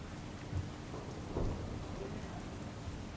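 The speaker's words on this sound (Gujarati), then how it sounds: "મહેસાણામાં ભારે વરસાદ વરસી રહ્યો છે।" Heavy rain pours in Mehsana, a dense faint wash of falling water with low thunder rumbling through it, swelling briefly midway.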